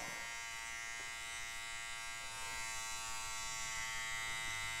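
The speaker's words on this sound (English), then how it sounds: "we're going to go ahead and use our Slimline Pros, which is another cordless rotary clipper" A Slimline Pro cordless rotary clipper buzzes steadily while cutting hair in a barber shop, a faint, continuous motor hum with no talking.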